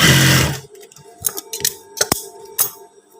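Trousers being sewn on a sewing machine, starting with a loud whirring run that stops, then several sharp, close clicks and taps at uneven intervals, with no speech.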